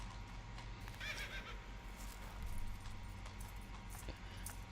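A horse neighs and whinnies in Shadow of the Colossus as it rears up, with clip-clopping hooves over steady low game ambience and no talking.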